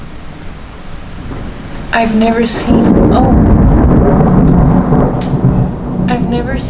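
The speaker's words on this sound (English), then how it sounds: "It's been going non-stop lightning for 30 minutes now." A heavy thunderstorm with near-constant lightning, with steady heavy rain and a deep rolling rumble of thunder that swells and holds loud for several seconds, while people talk over it.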